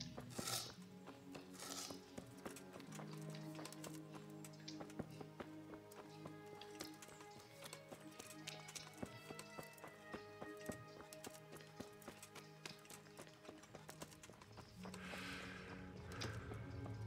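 Horse hooves clip-clop in a steady, continuous rhythm while riding in Kingdom Come: Deliverance, faint and quiet, with a few clatters over soft ambient music.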